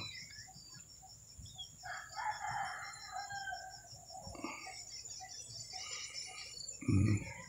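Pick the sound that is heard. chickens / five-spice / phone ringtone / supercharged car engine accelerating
chickens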